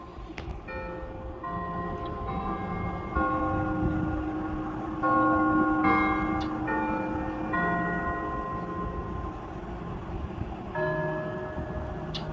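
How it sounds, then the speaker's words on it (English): Church bells ring repeatedly with overlapping, sustained tones, several strikes a second apart, over a low rumbling truck background. "The church bells are actually ringing."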